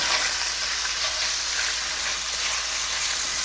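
Sliced Hillshire Farm Cajun andouille sausage browning in a skillet, giving a continuous close, even hiss of sizzling fat.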